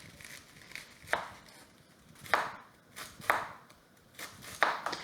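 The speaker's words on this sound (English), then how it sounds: "we're going to cut this one into quarters. And then we're going to remove this core right here by cutting at an angle." A kitchen knife cuts through a cabbage in several firm, evenly spaced strokes as it is quartered and the core is cut out at an angle, each chop landing on a board, close and clear with no speech.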